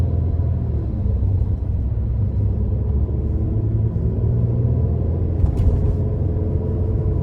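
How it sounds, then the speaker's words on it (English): A 2014 Mercedes-Benz SLK 350 convertible with a 3.5 V6 drones with a steady, deep exhaust rumble heard from inside the cabin while driving, loud and constant throughout, with no talking. "one thing I love about this car in particular is the exhaust note"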